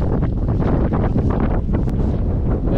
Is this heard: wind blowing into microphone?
yes